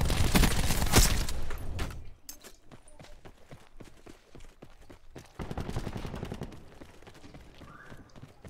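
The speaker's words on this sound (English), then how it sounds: "I'm always shooting above him." Rapid gunfire bursts in Call of Duty Black Ops 4, loud and dense at first, then sparser cracks and clicks with a second busy volley later, alone without talk.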